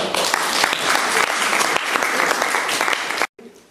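A hall audience claps to welcome classical Indian music performers at New College Worcester, in a loud dense burst of applause that cuts off abruptly near the end, leaving a faint quiet tail.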